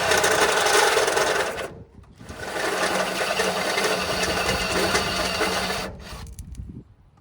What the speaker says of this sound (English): Got a step bit. That way you can drill multiple sizes of holes